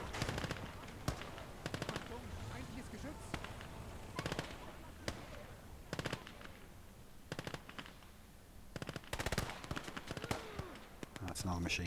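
Machine-gun bursts rattle in short, loud volleys during a Gates of Hell Battle of Moscow skirmish, mixed with single shots against a steady battle din, while a voice talks in between.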